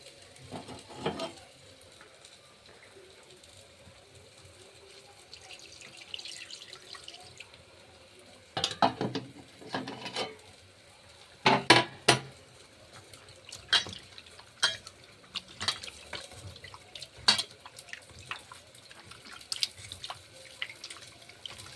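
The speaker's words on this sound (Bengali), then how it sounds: "গরম জলে একটু চুবিয়ে রেখে দেবো, দিয়ে এটা ধুয়ে নেবো, পরিষ্কার করে ধুয়ে নেব।" An item being rinsed clean at a sink after soaking in hot water heated on a gas stove, with water running, splashing and the clatter of dishes in scattered bursts, near and fairly quiet, with no talking.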